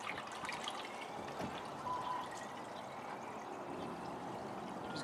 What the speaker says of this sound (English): I simply just pour water in.